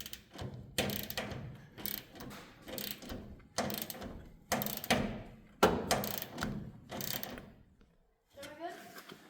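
A wrench ratchets off a fitting during a Blue Ridge ductless mini-split installation, giving repeated bursts of close, sharp mechanical clicking in an uneven rhythm, with a short pause near the end.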